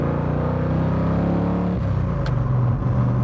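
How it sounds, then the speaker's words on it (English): A De Tomaso Pantera's 351 V8 rumbles steadily up close, its deep low-frequency roar holding loud and continuous for the whole stretch without any talk over it. "And that's the roar of the 351 right there."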